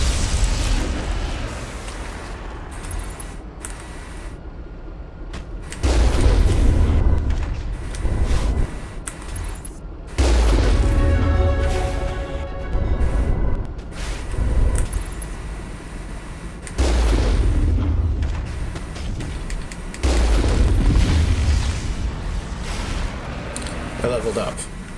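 Gunfire and heavy explosions erupt in the Mass Effect video game, with repeated loud booming blasts and bursts of shots in waves, mixed with game sounds and a talking voice.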